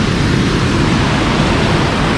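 A waterfall on the Mahavong Plateau in inland Laos roars as a steady, loud, dense rush of water, constant and close, with no voices over it.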